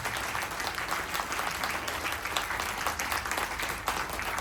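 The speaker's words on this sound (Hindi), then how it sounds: "एक बार जोरदार तालियां इनके लिए।" Loud, sustained audience applause fills the room, dense and even from start to finish with no voices heard.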